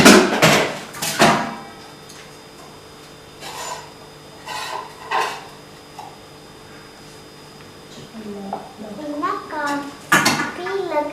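Metal kadhai and other kitchen utensils clatter and scrape in a home kitchen, with several loud clanks early on and later bursts, while someone talks intermittently.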